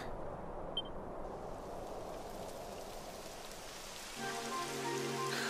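Steady rain patters across a surface in the video game Dragon Quest XI on PS4, soft and continuous, with a brief click early on and a low droning tone joining near the end.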